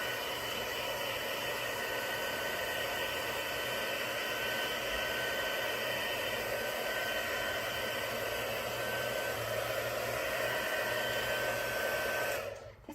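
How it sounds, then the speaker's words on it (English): A craft heat tool blows over a freshly stamped card in a loud, constant whirring hiss that runs unbroken for about twelve seconds before cutting off abruptly. "so I'm just going to blast it with my heat tool"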